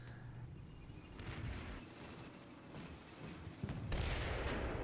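Gunfire from a Soviet BTR in the wargame Combat Mission Cold War, faint distant bursts and rumbling impacts over a low battlefield rumble, growing a little louder toward the end.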